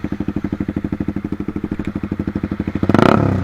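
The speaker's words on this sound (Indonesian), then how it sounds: "Kita coba revving." A Suzuki GSX R150 motorcycle fitted with an R9 exhaust idles with a fast, even loping pulse up close, then the engine is blipped into a short, loud rev near the end.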